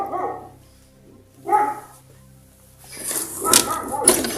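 Protective dogs bark in short bursts close to the microphone indoors, with a few yips and louder barks near the end and quiet gaps in between.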